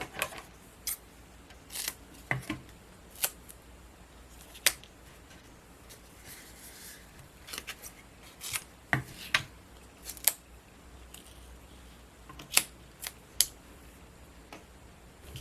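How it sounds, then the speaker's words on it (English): Scissors snipping strips of double-sided foam tape, a series of sharp, close, quiet cuts at irregular intervals against a near-silent background. "Now we could put on some double-sided foam tape to the back, and we will just cut a few strips."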